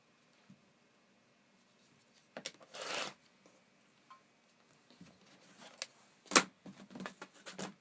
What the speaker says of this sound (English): I'm going to trim the colored strip down to 2